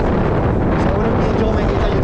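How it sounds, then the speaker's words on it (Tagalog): Strong wind roars across the microphone during a Vespa scooter ride on high ground in Tayabas, a loud, continuous buffeting rush with no letup. "Taas talaga ng hangin dito sa Tayabas kasi mataas ang lugar to mga boss"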